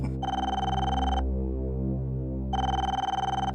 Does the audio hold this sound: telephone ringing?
yes